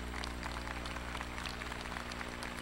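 A college commencement crowd applauds the ceremony marshals: a broad, sustained wash of clapping from a large audience in a big hall, steady throughout with a faint low hum underneath.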